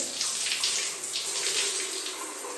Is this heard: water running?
yes